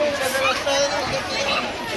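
A dense crowd chatters at a Hanuman temple fair in Koparkhairane, with a steady babble of many overlapping voices close around.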